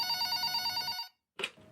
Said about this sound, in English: Sounds like your phone's ringing, Kel.